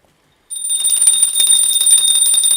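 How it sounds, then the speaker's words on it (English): A small hand bell rings continuously during an aarti offering to Swamiji at a Maha Kalabhairava darshan, a bright, rapid metallic jangle that starts abruptly after a short silence and keeps going loud and close. "please ring the bell as you do so"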